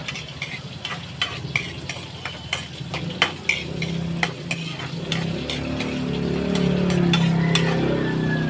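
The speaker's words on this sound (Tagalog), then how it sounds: "Magigisa na tayo para sa patola." Sautéing for a sponge gourd (patola) dish: steady pan sizzle with repeated scraping and clinking stir strokes, the frying hiss swelling louder toward the end.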